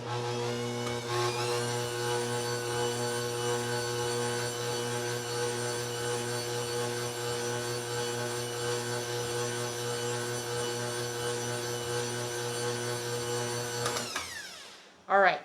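An electric stand mixer runs continuously at high speed, beating chocolate buttercream frosting with a steady whirring hum that stays constant for a long stretch before cutting off abruptly, with a brief clatter afterward.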